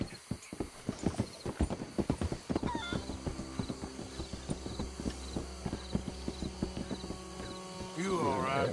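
A horse's hooves clip-clop in a steady walking rhythm in the video game Red Dead Redemption 2, close and clear, with a brief whinny near the end and faint background ambience.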